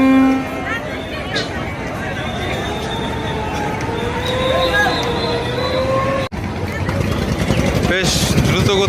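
A large passenger launch in Barisal runs its engine in reverse gear, a steady droning rumble and whine under a voice talking, with crowd hubbub and a faint horn-like tone in the background.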